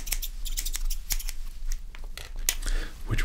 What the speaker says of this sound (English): And then we have the traditional pair of scissors here